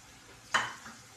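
Onions fry in a pan with a low sizzle, broken by one sharp stir or clatter partway through.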